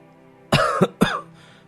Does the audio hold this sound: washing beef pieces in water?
no